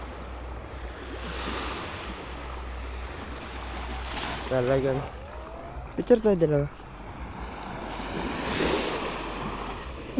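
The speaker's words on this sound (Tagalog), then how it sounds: "malakas yung alon niya." Sea waves washing onto a shore, a soft continuous rushing surf with gentle swells rising and falling in the distance, under wind noise and brief nearby talking.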